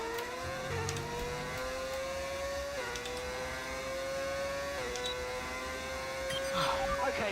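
A Formula 1 car engine in the F1 25 racing game, Benetton car, whines at high revs with rising pitch sweeps and sharp drops at each gear shift, steady and prominent throughout.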